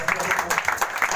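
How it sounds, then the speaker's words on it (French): A church congregation claps during a worship service, a steady rhythmic beat of hand claps mixed with voices and singing. "Acclamez pour la gloire de Dieu"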